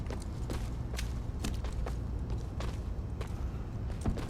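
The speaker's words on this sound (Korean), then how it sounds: "발소리" Footsteps in The Midnight Walkers, a zombie survival extraction game, sound as a steady series of soft thuds and scuffs over a low constant hum, with no talking.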